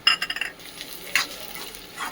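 Chopped onion and green chilies sauté in oil in a pan for paneer bhurji. A quick run of spatula scrapes and clinks sits over a soft sizzle, followed by a few more scattered stirring strokes.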